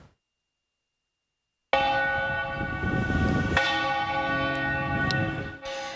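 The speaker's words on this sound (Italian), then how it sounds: "È il rintocco di mezzogiorno a segnare la vita del centro di Lusiana." Church bells in the centre of Lusiana ring for noon, starting abruptly after a silent opening with rich sustained tolling and overlapping strikes that carry on steadily until the end.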